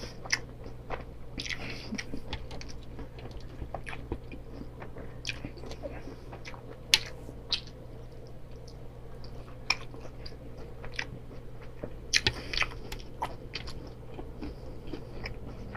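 A large burger being bitten and chewed close up, with soft, wet chewing and occasional crunchy bites over a quiet background, plus a few brief murmurs of appreciation.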